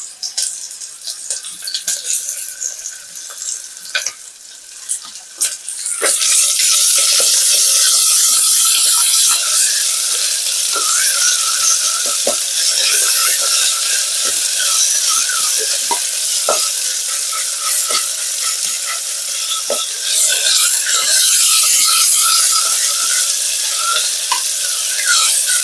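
Ginger garlic paste fries with onions in a pan: a quiet spell of light scraping gives way to a loud, steady sizzle with the rhythmic scrape and clatter of a stirring spoon, close up.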